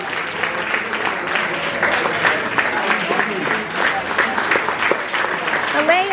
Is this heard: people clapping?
yes